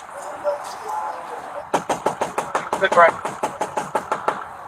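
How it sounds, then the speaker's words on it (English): Police knocking on a house door, a long run of about fourteen sharp, evenly spaced raps in quick succession, loud and close, following a quieter stretch of background noise. "After a full 3 minutes of knocking, the police finally get a response from inside."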